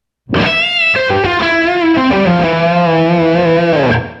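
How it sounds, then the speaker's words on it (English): A distorted electric guitar plays a single sustained lick, loud and close, with bending notes rising and sliding over about four seconds before cutting off cleanly, thick with effects and no voices. "I'm going to show you the sexiest lick on guitar"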